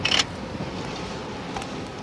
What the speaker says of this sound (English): It gets very windy